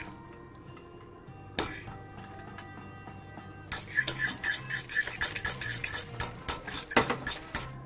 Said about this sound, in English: now I'm going to stir it and give it a taste